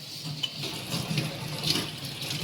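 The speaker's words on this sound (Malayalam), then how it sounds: "ബാക്കിയുള്ള പാത്രങ്ങൾ കൈയോടെ കഴുകി വയ്ക്കാം" Water runs steadily from a tap in a low, even hiss, with faint clinks of cooking vessels being rinsed by hand underneath, in a home kitchen.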